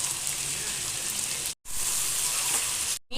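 Pepper chicken frying in a pan over a low flame, a steady dense sizzle with fine crackling, close and continuous, broken by two brief silent gaps.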